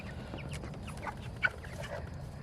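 A flock of four-week-old meat chickens under a heat lamp clucks softly and steadily, with scattered short calls over a constant low background hum, one slightly louder peep standing out midway.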